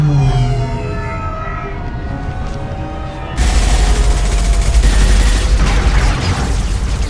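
Gunfire erupts in a Mass Effect 2 firefight, a dense, loud burst of shots and booms that cuts in suddenly after a quieter musical stretch and continues steadily to the end.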